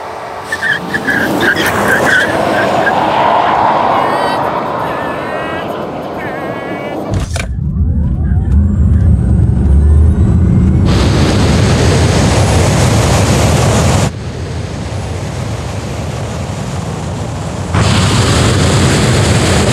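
Two Tesla Model S Plaid cars, one stock and one with the track package, launch down a drag strip: loud electric motor whine and tire roar builds and sweeps past, with broadband rushing noise and abrupt shifts as the cars pass.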